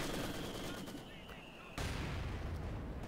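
In a war video game, a machine gun fires from behind sandbags amid a busy battle soundscape: dense, rattling gunfire and booming artillery merge into a loud continuous din, with a heavy thump near the midpoint and faint voices underneath.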